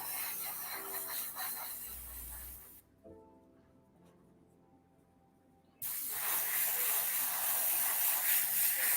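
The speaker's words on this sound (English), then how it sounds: "it sounds like I'm spraying the whole time" Airbrush spraying a monochrome base coat onto a scale armor model, a close, steady hiss that cuts out for about three seconds before resuming at full strength, with no talking over it.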